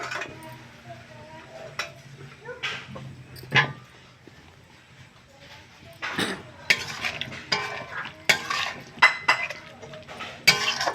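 Potatoes tipped into a cooking pot for a curry with snails, giving a run of sharp metallic clanks and scrapes of a utensil against the pot at an irregular pace, close and fairly loud.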